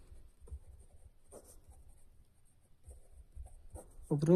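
A pen scratches across paper as a maths solution is written out by hand, with faint, sparse strokes close by and a louder scrape at the end.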